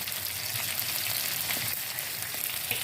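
Green chilies frying in oil for a yogurt chili dish make a soft, continuous sizzle at low level, with no voices.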